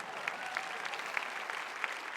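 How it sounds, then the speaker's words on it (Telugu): A sermon audience claps in a soft, steady patter of applause, heard fairly faint and distant with no one talking over it. "మీరు గట్టిగా చప్పట్లు కొట్టడం లేదు"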